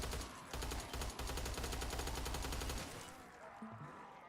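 Rapid machine-gun fire in a World War I video game, a weapon resembling the MG08 or a VMG 1927, rattling in a fast steady burst for nearly three seconds before cutting off into quieter ambient game noise.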